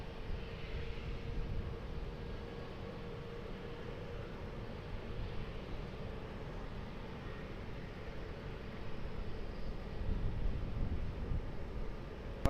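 A fixed-wing airliner landing on runway 20 at Lisbon Airport, heard as a steady, distant broadband jet roar that holds fairly even throughout and swells slightly toward the end, with no talk.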